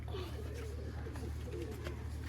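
Soft, throaty cooing from fancier's pigeons, some of them white, runs through a couple of seconds of steady background noise, with faint talk mixed in.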